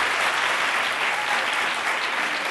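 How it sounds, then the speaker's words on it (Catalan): Audience applause welcoming school teams onto a Catalan quiz show stage, a steady dense wash of clapping throughout with no pause. "un fort aplaudiment per ells"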